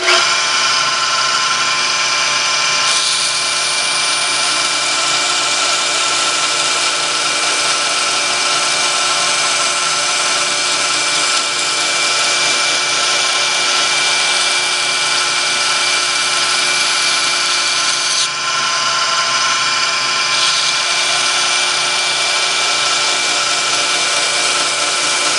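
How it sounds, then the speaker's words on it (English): A knife grinder runs on low speed during knifemaking, giving a loud, steady, high-pitched whine and rasp with no pauses, heard alone for the whole stretch. "Now I got the grinder on low speed, but it's still going to be kind of loud"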